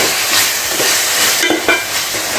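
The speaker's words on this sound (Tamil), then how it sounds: "தக்காளி கொஞ்சம் வதங்கிடுச்சு ஓரளவு." Tomatoes sauté with salt in a hot pan for mutton biryani, a loud steady sizzle and hiss close by, with a few stirring scrapes and no talking.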